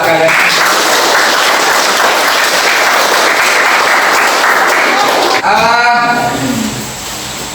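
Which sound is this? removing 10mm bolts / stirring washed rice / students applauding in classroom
students applauding in classroom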